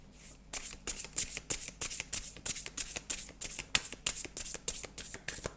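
A deck of Zen tarot cards is shuffled and dealt, making crisp rhythmic riffles and snapping card flicks that repeat steadily at close range with no talking.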